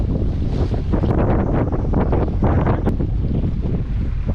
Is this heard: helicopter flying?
no